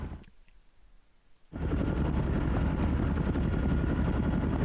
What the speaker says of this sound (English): Let's get these chopper off the ground so they can act as suppression fire here.